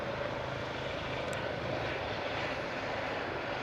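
Jet airliner on approach to land on runway 8 Left in Hawaii, a steady, fairly loud broadband engine roar that holds evenly throughout with no voices.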